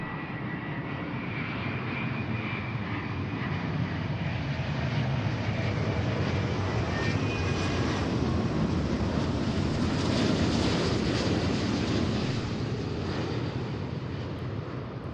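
Engines of a widebody airliner arriving at Seattle-Tacoma airport give a loud, continuous roar with a faint whine, building slightly as the jet passes close and then holding steady with no talk.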